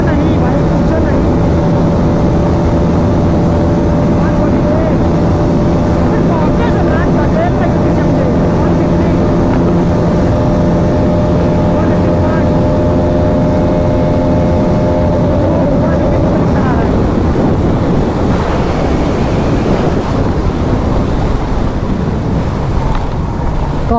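A Yamaha R15 V4 and a Bajaj Pulsar NS200 race at high speed, an engine droning steadily beneath loud, roaring wind rush, the engine tone gradually fading into the wind noise.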